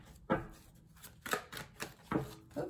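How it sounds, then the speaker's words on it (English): Tarot cards are shuffled in several quick riffling bursts, soft and close, with brief pauses between each shuffle. "Couple more shuffles."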